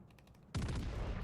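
A heavy boom of naval gunfire from a warship in a ranked video game battle bursts in abruptly after faint ambience and rumbles on as a dense, loud roar, with no talking.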